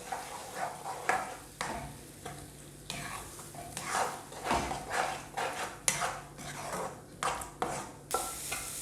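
A spoon or spatula stirs egg bhurji in a pan. Scraping strokes come in a rhythmic series with a light sizzle underneath, close and moderately loud, and no one speaks.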